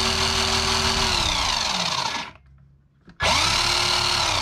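Brushed motor of a Traxxas Ford Mustang GT 1:10 RC car whining loudly at high revs, dropping in pitch, cutting out for about a second, then spinning back up to a steady high whine.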